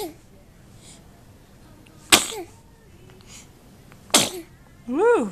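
A baby girl sneezes twice, two sharp close bursts a couple of seconds apart, with an adult talking softly and a brief playful vocal sound at the end.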